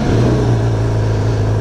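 A Yamaha R6 motorcycle engine runs under load while riding, a loud, steady mid-pitched engine drone with a stable tone throughout the short stretch, close to the microphone.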